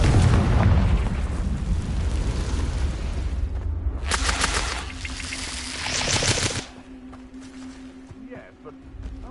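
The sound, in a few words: explosion from the Confringo spell in a video game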